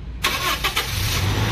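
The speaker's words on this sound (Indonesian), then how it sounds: "tinggal kita coba dengerin suara mesin daripada Innova ini ya" Toyota Kijang Innova engine cranking and firing up nearby: a brief silence, then a sudden broadband start that settles into a steady low idle rumble, with no talking.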